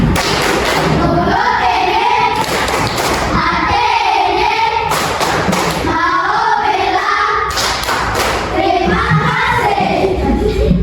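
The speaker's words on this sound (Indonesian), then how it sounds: "Tepuk terima kasih." A class of students performs a rhythmic thank-you clap at the end of a physical education lesson, loud patterned bursts of claps repeating in a steady cycle, with shouted voices mixed in.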